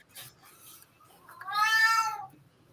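A house cat lets out one clear, drawn-out meow, fairly close and loud, after a few softer scuffling sounds.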